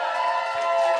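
Live audience at a radio show taping in the Anderson Hotel bursts into crowd cheering and clapping, a dense steady wash of many voices and hands lasting about a second.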